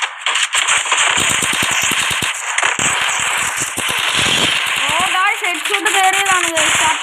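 Rapid bursts of gunfire from a shooting video game crackle through most of the stretch, dense and loud, with a player talking over the shots.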